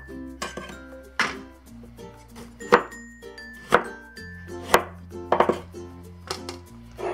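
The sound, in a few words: knife quartering tomatoes on a board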